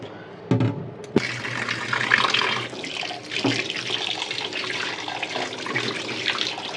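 Eggs being rinsed under a running kitchen tap: a steady, close splash of flowing water into a sink, with a couple of brief knocks near the start.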